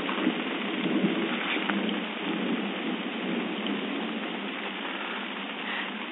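Steady heavy rain falls through a thunderstorm at night, with low rolling thunder mixed into a continuous dense wash of downpour, no voices.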